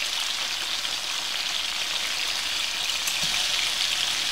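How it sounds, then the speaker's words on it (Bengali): Chicken pieces fry in a pan for a spiced chicken roast, giving a steady, close crackling sizzle that holds evenly throughout with no voices. "আমি একটু উল্টে উল্টে দেব, উল্টে পাল্টে একটু ভেজে নেব"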